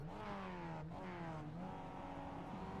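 Race cars rev on the starting grid at Oran Park for a Club Day Masters race, a steady loud engine drone whose pitch climbs and dips through the clip, with no voices.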